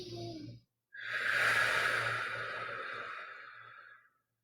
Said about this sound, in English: Breathe here. Couple breaths.